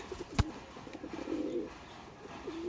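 Soft, low coos of Giribaz pigeons for sale repeat in a short rolling phrase, fairly quiet and close, with a single sharp knock near the start.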